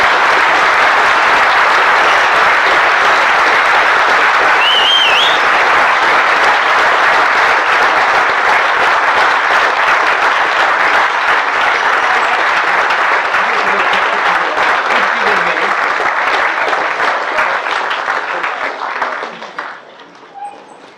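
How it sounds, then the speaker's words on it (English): An awards-ceremony audience at a bird photography event applauds photographer Chris Gomersall, loud sustained clapping close and full for about twenty seconds before thinning and fading out at the end. "please give him a great round of applause"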